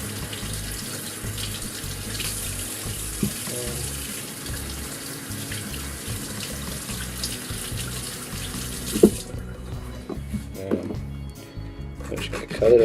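Peaches rinsed under a running kitchen tap, a steady stream of water for about nine seconds that cuts off, followed by scattered knocks and handling noises, with occasional speech.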